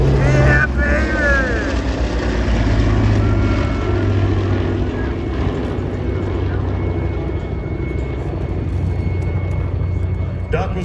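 Boeing B-29 bomber "Doc" drones low overhead at an airshow, a loud sustained propeller roar filling the field while an announcer talks over it.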